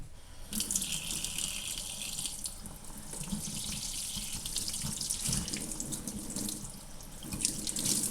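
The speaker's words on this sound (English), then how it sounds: "I'm doing this up near the top of the faucet where it is not so, the water's not so hard" Tap water runs gently and steadily from a faucet into a plastic cup by a sink for a few seconds, a soft continuous splashing with no talking.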